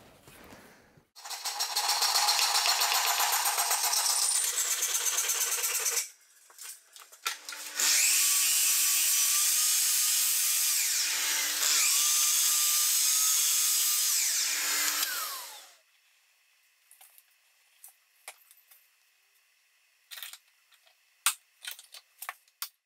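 Long stretches of loud, steady rasping as a hand saw's coarse side cuts through wood, a pause in between, then the cutting stops and a few light knocks and taps follow.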